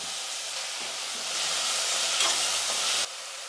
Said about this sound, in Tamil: இது அப்படியே ஸ்டவ் வந்து குறைச்சி வச்சுட்டு இதை நல்லா வதங்கட்டும்